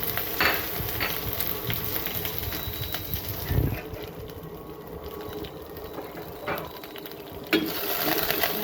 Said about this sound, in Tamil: கடுகு போட்டுக்கோங்க கடுகு நல்லா பொரிஞ்சதும் காஞ்ச மிளகாய் சீரகம் கருவேப்பிலை சின்ன வெங்காயம்